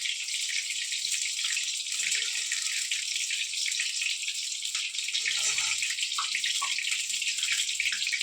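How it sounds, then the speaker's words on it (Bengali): Hands are washed under a running kitchen tap, producing a steady, even rush of water that lasts throughout, with only faint scattered background noises underneath. "তাই সবসময় বারবার একটু হাত টাত ধুই"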